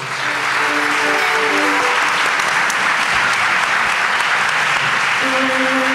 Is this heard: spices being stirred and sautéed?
no